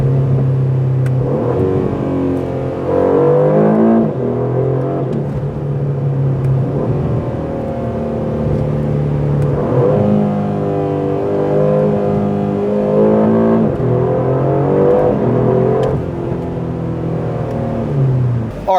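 A 2024 Aston Martin DB12 accelerates hard, its engine revving loud and close with a rising pitch that climbs through the gears in repeated surges.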